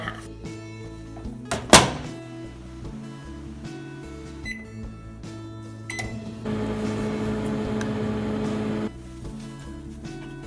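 A microwave oven runs while heating a chocolate mug cake, with a steady electrical hum and whir after a sharp door thunk and clicks, fairly close, with no talking.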